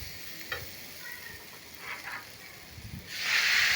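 Onions and tomatoes fry in a pan, a soft sizzle with a few light stirring scrapes, swelling into a louder hissing sizzle toward the end.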